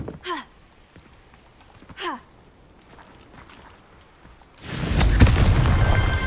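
A Confringo blasting spell in Hogwarts Legacy: brief whooshing casts early on, then a loud, dense burst of explosion noise that rumbles on to the end.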